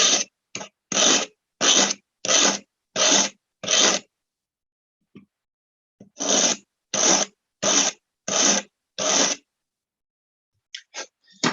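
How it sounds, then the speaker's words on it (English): Rhythmic rasping strokes of a metal file scraping back and forth on a jewelry stone setting frame, two bursts of steady filing separated by a pause. "once again, filing down. It's a horrible noise."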